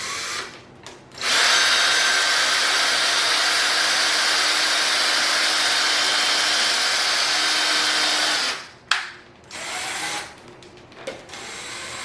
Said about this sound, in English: I'm just going to be holding it down and drilling through